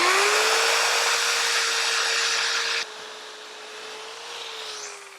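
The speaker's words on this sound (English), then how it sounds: "use the sander if you really want to see the sawdust fly" A power sander with a thick foam backing pad works a wood piece spinning on a lathe, a loud steady whining hum that drops sharply in level partway through and then carries on more quietly.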